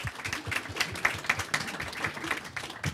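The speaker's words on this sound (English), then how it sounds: "Can we all give her applause, please?" An audience claps steadily, a dense patter of many hands applauding at moderate volume throughout.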